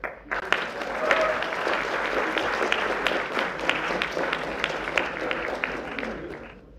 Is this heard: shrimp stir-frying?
no